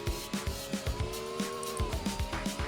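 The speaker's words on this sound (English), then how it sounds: "I do love these Porsche 911 Cup cars." A Porsche 911 Cup car racing on the Nordschleife in a racing game, its engine giving a steady tone broken by quick rhythmic pulses, heard fairly faintly with no talking.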